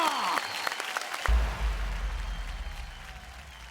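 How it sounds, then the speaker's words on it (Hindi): Audience applause at a stage show, a burst of crowd clapping that starts strong and gradually fades, joined partway through by a deep low rumble from the venue sound system. "जोरदार तालियां हो जाएं किनके लिए"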